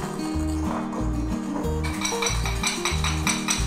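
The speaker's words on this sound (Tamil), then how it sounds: "இப்போ இது ரெண்டுத்தையும் நல்லா அடிச்சுக்கணும்." Eggs and sugar are whisked in a bowl with a rapid, steady clatter of metal against the bowl's sides, a close, busy rhythm that continues throughout.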